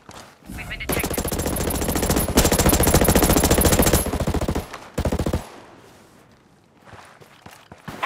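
Sustained automatic gunfire in Ghost Recon Breakpoint PvP play: loud, rapid, rhythmic bursts lasting several seconds, a short pause, another brief burst, then quieter footsteps and movement afterward.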